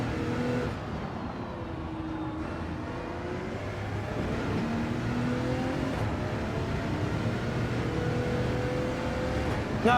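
Race car engine in Gran Turismo 7 droning steadily for the whole stretch, its pitch sliding up and down under throttle changes, loud and continuous with broad road and tyre noise beneath.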